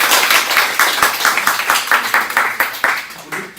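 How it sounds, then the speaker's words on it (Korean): Church college and young-adult group members clap together at a summer retreat, a quick, steady run of close, crisp claps filling the room. "서로를 위해서 박수하도록 하겠습니다."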